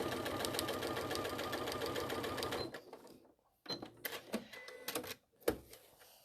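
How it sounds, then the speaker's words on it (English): Sewing machine stitching chiffon into crazy patchwork, a dense steady mechanical whir for under three seconds, then stopping, followed by scattered clicks and handling noises at close range. "Sew them both in together so I'm not struggling with the chiffon."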